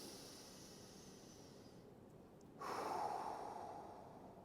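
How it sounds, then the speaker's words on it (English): Slow, deep breath during a seated hip stretch, a soft steady airy exhale that swells into a louder rushing breath partway through, close and alone with no talking. "take a few deep breaths"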